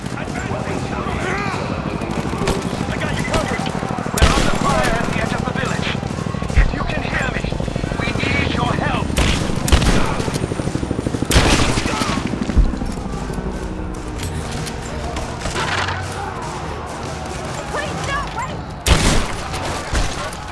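Heavy gunfire fills a firefight in Rise of the Tomb Raider, a dense steady barrage of shots and booms with a few sharper loud blasts, continuous throughout with voices shouting over the battle.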